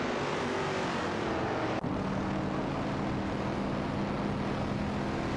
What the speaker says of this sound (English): Sarayan Bot in an Oldsmobile 442 is heating up.